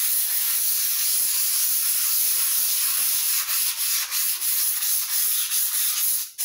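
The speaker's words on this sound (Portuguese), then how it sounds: "Você tira um pedacinho e vai lixando." Steady, loud abrasive rubbing of sandpaper against an oil painting canvas, continuous back-and-forth hiss with a few brief pauses near the end.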